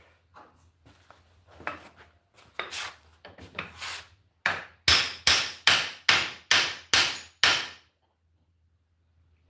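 A wooden mallet strikes repeatedly, first a scattering of lighter knocks, then a steady run of about seven hard, evenly spaced cracking blows close by, followed by quiet.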